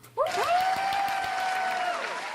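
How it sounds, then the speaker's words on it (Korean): A church congregation claps together in a sustained round of applause in the sanctuary, starting abruptly and holding steady, while a sung or sustained tone rises over the clapping. "제가 교인을 대신해서 박수를 쳐드리고 싶습니다"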